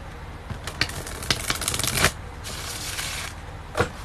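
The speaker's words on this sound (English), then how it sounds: "That was a good shuffle." Tarot cards being shuffled in several quick riffling bursts, crisp and close, with short pauses between and a final brief flutter near the end.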